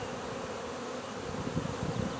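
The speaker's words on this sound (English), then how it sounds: "there's a pile of bees on that one" A large clustered swarm of honeybees hanging on a branch buzzes steadily up close, a dense continuous drone that swells slightly toward the end, with no talking.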